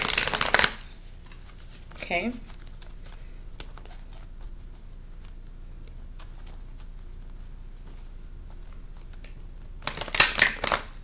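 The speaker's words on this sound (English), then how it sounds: "let's just go ahead and get a really quick shuffle in to start that off" A tarot deck is shuffled quickly and close by, with brisk papery riffles at the start and again near the end, a quieter stretch in between, and a brief spoken word.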